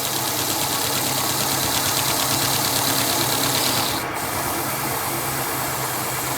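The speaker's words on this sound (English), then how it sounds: "Rub it in with the lathe going about 500 RPM for this particular size piece" A wood lathe spins a redwood burl platter at about 500 RPM while finish is rubbed in, a steady close whirring rub with a brief hiss near the end.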